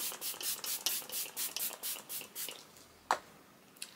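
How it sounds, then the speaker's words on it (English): Makeup setting spray is misted onto a face in a quick run of soft, breathy pumps at an even rhythm, followed by a pause and one sharper tap, all close and quiet. "I'm gonna apply a little bit more of the setting spray just to set the lipstick that I just applied."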